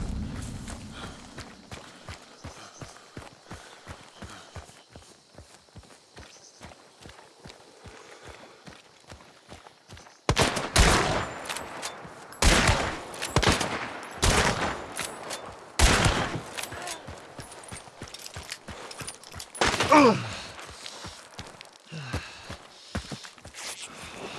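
Gunfire in the game Hunt: Showdown comes as several loud, sharp shots in the second half, following quieter rhythmic footsteps, with more distant firing trailing off.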